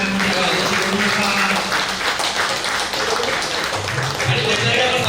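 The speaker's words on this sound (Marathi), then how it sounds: "सगळ्यांनी टाळ्या वाजवा." Applause from a birthday gathering audience, steady and continuous for the whole stretch, with voices and crowd chatter mixed in underneath.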